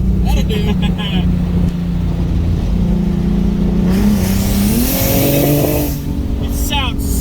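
A Ford Mustang S197 V6 fitted with a budget low-mount turbo kit revs loudly close by, its engine note rising and climbing through several pulls, with people's voices briefly mixed in.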